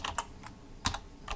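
Keys clatter on a computer keyboard in short, irregular bursts of a few taps each, close and fairly quiet, with no talk.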